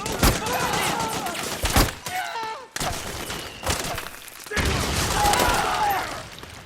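Rapid gunfire bursts in Metal Gear Solid 4, sharp cracks and clustered volleys close by, broken by short lulls, with soldiers shouting orders over the shooting.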